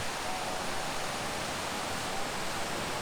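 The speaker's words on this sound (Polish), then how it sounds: "woda spada trzema strugami po spękanym piaskowcu" The Łomniczanka waterfall in Łomnica-Zdrój, about three metres high, with water falling in three streams over cracked sandstone, gives a steady, even roar of rushing water, constant and unbroken throughout.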